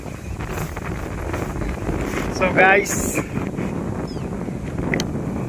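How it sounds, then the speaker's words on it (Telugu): Wind blows outdoors on farmland, buffeting the microphone with a steady low rumble and gusts while someone talks over it. "చల్ల గాలి వస్తుంది, వెదర్ అంతా ప్యారడైస్గా."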